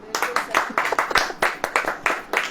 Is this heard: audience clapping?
yes